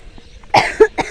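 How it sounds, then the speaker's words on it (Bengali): Three quick, close coughs from a person who had been chewing betel nut, each a sharp, fairly loud burst, the second the strongest, with near silence before them. "কাশি উঠে গেছে, একটু সুপারি খাচ্ছিলাম তার জন্য"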